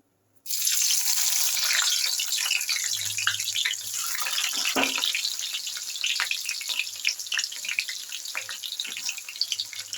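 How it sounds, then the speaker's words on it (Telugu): Sliced onions tipped into hot oil for a sambar tempering, a sudden bright sizzle that bursts in and keeps crackling and spitting steadily, close and fairly loud. "ఆయిల్ కాగిపోయిందండి ఉల్లిపాయ వేసేసుకుందాం"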